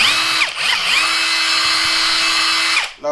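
A Greenworks 24V brushless drill runs loud and close at steady speed for about three seconds, with brief speed changes near the start before it winds down at the end.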